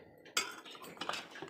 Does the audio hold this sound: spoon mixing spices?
yes